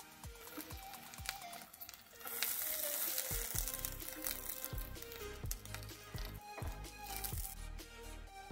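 Chhena paturi, cottage cheese wrapped in banana leaf, fries in a pan on a low flame with a steady close sizzle. Sharp pops and clattering knocks break through it at irregular intervals.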